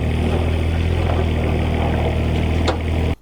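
An old Kubota digger's diesel engine runs at a steady idle on a building site, a close, continuous low throb with a faint brief click near the end before it cuts off.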